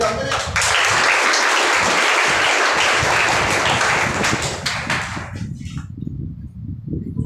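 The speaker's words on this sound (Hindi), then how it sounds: "ताली बजाते रहिए।" Loud, dense applause from an audience at a 2022 talent award ceremony for students, sustained for about five seconds before thinning into scattered claps and murmuring voices.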